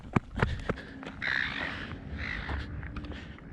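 Harsh bird squawks and caws ring out repeatedly, fairly close, over a low background hum with a few sharp clicks.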